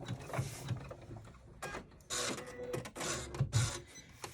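Embroidery machine stitching a bag held in the hoop, a quiet, busy mechanical whirring and rhythmic clattering that rises and falls in short bursts.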